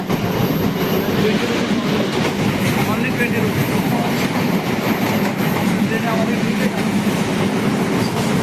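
Inside a moving train, a steady, loud rumble and rattle of wheels on rails runs without a break, with faint clatter and carriage noise throughout.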